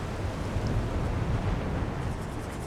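A waterfall in the fantasy game Avowed gives a steady, loud roar of rushing water with deep low rumble, constant and unbroken throughout, with no voices.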